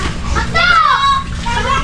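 A noisy child at play with squealing, rising and falling high-pitched vocal cries near the listener over steady background rumble, lasting throughout.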